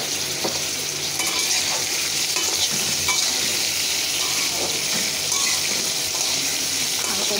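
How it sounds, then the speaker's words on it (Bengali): Potatoes fry in a pan with a steady, close sizzle, broken by scraping stirs of a spoon against the metal throughout. "একটু আলুটা ভাজা হয়ে গেছে"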